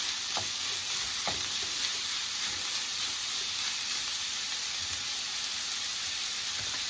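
Ground pork sizzles steadily in a pan with sautéed garlic, onion and ginger, a constant bright frying hiss with occasional clicks from stirring, close and even throughout with no talking.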